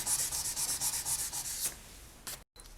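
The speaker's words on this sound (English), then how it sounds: "And just lift up, check, burnish some more, and continue until it's a nice solid veneer." Polymer clay slab veneer being burnished by hand, a close, soft rhythmic rubbing that repeats in quick strokes, then a brief pause and a last scrape.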